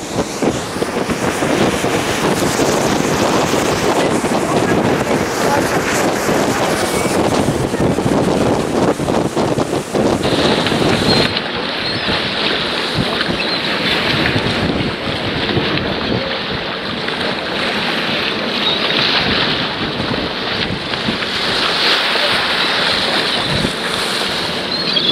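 Whale watch boat out of Hyannis with five diesel jet engines producing 7,000 horsepower, rumbling steadily at sea under heavy wind buffeting the microphone and rushing water, loud and continuous throughout with no talk.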